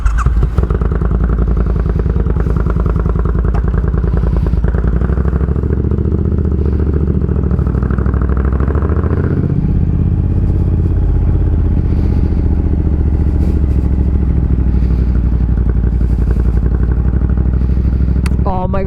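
A custom Triumph Bonneville bobber motorcycle roars continuously while being ridden, its deep engine drone loud and close, with gear changes and rising, falling revs under heavy wind buffeting.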